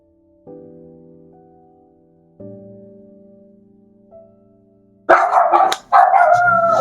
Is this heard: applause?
no